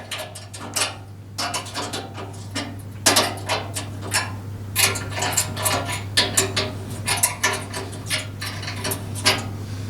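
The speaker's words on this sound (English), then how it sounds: "I can now tighten them up all the way with my 13mm spanner." Wood chipper bolts on a Hyundai HYCH7070E-2 7hp 208cc chipper being tightened with a 13mm spanner, a close series of irregular metallic clicks and clanks, quiet at first then busier, over a steady low hum.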